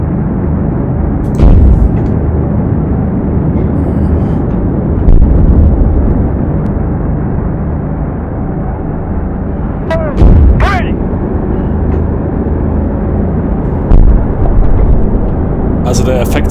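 AC-130 gunship cannon fire from a video game, heavy booming blasts and explosions rolling over a constant loud low rumble, with several sharp impacts spaced across the stretch and a voice talking over it.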